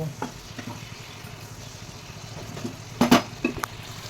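Telangana-style chicken curry bubbles and sizzles faintly in a pan, with a soft, steady frying hiss, a few light stirring taps and a brief clatter of utensils near the end.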